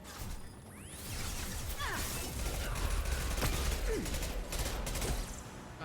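Rapid bursts of gunfire from a video game sci-fi gun crackle close and loud across the whole stretch, mixed with mechanical clatter and whooshing effects, with no talk over them.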